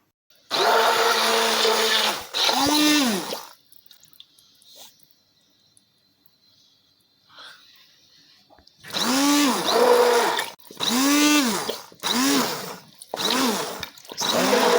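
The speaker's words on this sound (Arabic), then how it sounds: "دابا غادي نطحنها." An electric blender grinds cooked tomatoes in loud, close bursts: one long run and a short second pulse, a quiet pause with faint clinks, then four rapid pulses with pitch swooping as the motor spins up and down.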